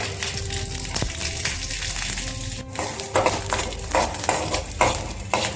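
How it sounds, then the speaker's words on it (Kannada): Green chillies and garlic roast in a little oil in a pan, with steady scraping and stirring and a soft sizzle that grows a little busier toward the end. "ಮೆಣಸಿನ್ಕಾಯಿ, ಬೆಳ್ಳುಳ್ಳಿ, ಒಂದು ಸ್ವಲ್ಪ ಎಣ್ಣೆ ಹಾಕಿ ಒಂದು ಸ್ವಲ್ಪ ಹುರ್ಕೋರಿ."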